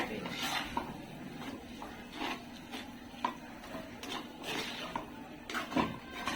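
Mussel sisig being mixed in a pan, repeated scraping and clinking of a utensil against metal in an irregular rhythm, close and moderately loud.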